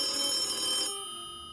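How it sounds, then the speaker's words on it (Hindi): Landline telephone ringing in a hall, a single steady electronic ring that cuts off partway and leaves a faint fading tail, with no voices. "हॉल में रखा लैंडलाइन बजने लगा।"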